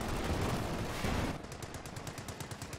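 Gunfire in a multiplayer strategy video game match with a sniper and advancing infantry: a dense roll of shots gives way to a rapid, evenly spaced burst of sharp reports over a low rumble.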